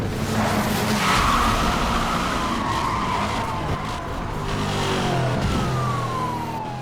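A Koenigsegg CCX racing in NFS Hot Pursuit Remastered, engine roaring loudly while tires skid and squeal, with a long descending whine toward the end and no voices.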